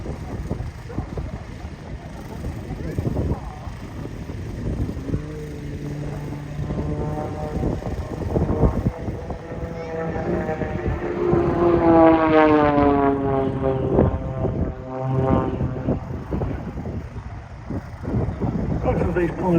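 Propeller aircraft flying aerobatics at Headcorn airshow: a droning engine whose pitch rises and falls in sweeping Doppler arcs as it passes, loudest near the middle, with a voice talking over parts of it.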